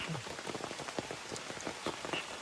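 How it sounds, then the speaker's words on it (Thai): Steady rain pattering on surfaces at a campsite in a forest, a dense continuous hiss of drops with scattered sharper taps close by, no voices. "โอ้ตอนนี้ฝนตกลงมาเรื่อยๆเลยนะครับผมก็ยังไม่มีท่าทีที่จะหยุดนะครับ"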